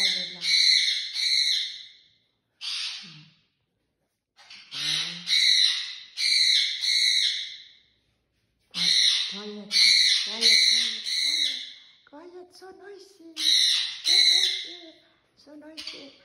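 Two pet cockatiels squawking noisily nearby, loud harsh repeated screeches in bursts with short gaps between them.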